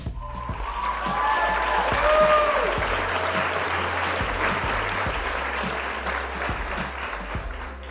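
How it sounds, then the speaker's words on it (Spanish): Steady applause from a small group fills the room at close range, clapping holding at an even level for several seconds and tapering slightly toward the end, with a faint voice beneath it. "Un fuerte aplauso."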